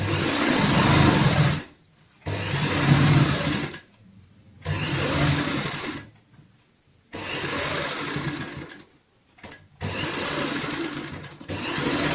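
A sewing machine stitches a homemade door mat with an inch-wide margin along the edge. Loud, steady mechanical whirring bursts of a couple of seconds each are separated by short silent pauses.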